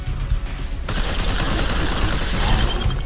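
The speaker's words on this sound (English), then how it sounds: "There's a plasma gun." A plasma gun fires in the retro first-person shooter STRAFE Millennium Edition: after a brief moment of game noise, a dense, loud, continuous barrage of rapid shots and blasts erupts and keeps going without letup.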